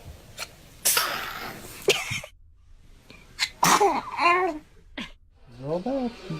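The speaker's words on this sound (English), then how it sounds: "you got to sneeze" A baby sneezes sharply several times in quick bursts, mixed with short coughs and babbling, with the sounds close and clear against a quiet room.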